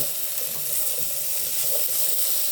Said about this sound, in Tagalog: Kaya ito yung ginamit ko kasi talsik-talsik ang mantika.